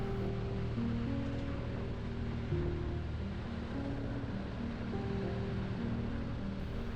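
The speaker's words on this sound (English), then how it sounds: "This is Chunayammakkal waterfall." Chunayammakkal waterfall in Kerala, reached on foot in a quiet spot, pours in a steady, dense rush of water that holds constant for the whole stretch with no voices over it.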